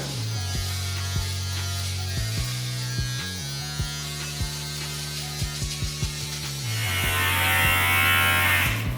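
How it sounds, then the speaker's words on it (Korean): Electric clippers buzz steadily with a low mechanical hum, soft clicks and snips scattered throughout, then a louder raspy cutting sound near the end. "저는 이제 보통 자를 때 바리깡 소리가 들리잖아요"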